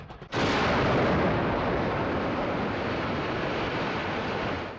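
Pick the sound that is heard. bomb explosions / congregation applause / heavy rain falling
bomb explosions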